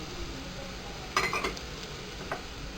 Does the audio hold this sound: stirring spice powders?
yes